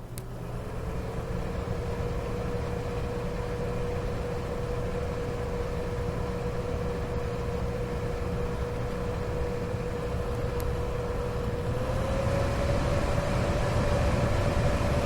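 A Honeywell air purifier hums close up as a steady whir with a constant tonal whine, which steps up slightly in pitch and loudness near the end as the fan speeds up.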